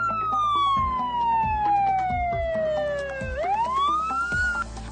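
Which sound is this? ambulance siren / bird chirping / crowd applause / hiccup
ambulance siren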